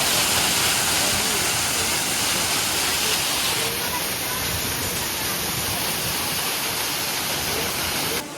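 A waterfall roars as a steady, dense broadband rush of falling water, loud and constant throughout, with a faint high tone joining partway.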